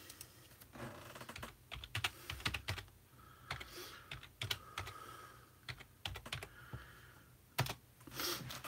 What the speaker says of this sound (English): I'll type that in here for you.